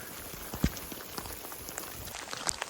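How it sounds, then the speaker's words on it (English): Hail and heavy rain fall on the Pacific Crest Trail, a steady close patter of drops with a few sharper ticks and pops scattered through, no voices. "Now it's hailing and raining even harder."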